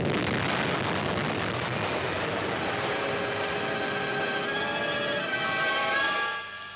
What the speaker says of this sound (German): Einer der Angreifer durchbricht die stählerne Flaksperre, stürzt ab und explodiert.